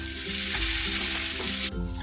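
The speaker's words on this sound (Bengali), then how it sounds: "একটা আদা রসুনের পেস্ট দিলাম, একটা টমেটো দিলাম।" Onion, ginger-garlic paste and tomato sizzle loudly in hot oil in a pan for prawn bhuna, a dense close frying hiss that cuts off abruptly near the end.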